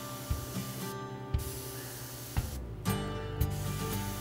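An airbrush held about a foot from a NYC Hudson locomotive model sprays black paint with a steady, close hiss. Soft mechanical clicks are heard every second or so, and no voices break in.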